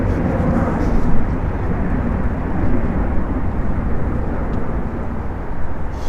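Aer Lingus airliner at Manchester Airport, a steady loud broadband engine roar that holds throughout with no clear build or fade.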